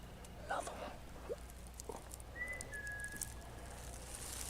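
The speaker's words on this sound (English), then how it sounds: "I heard a whistle." A single rising whistle sounds briefly from a short distance amid quiet room noise and a few knocks or footsteps.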